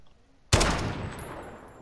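A single loud shotgun blast in a video game, a sharp sudden crack followed by a decaying boom and ringing tail, close and alone.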